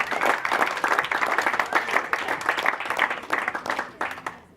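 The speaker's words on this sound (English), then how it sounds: "And yet another round of applause for Dema Kazkaz." An audience claps for guest Dema Kazkaz on the Fusion Tonight program, a lively burst of applause lasting several seconds before tapering off at the end.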